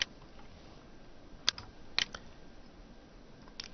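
A few sparse keystrokes on a computer keyboard, faint isolated clicks spaced irregularly as a product number is typed, close and quiet with no talk.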